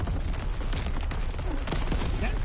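Rapid bursts of StG 44 assault rifle fire in Call of Duty: WWII, dense crackling shots in quick succession, loud and close with battle noise around them.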